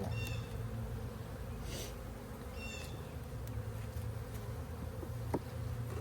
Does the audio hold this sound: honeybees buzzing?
yes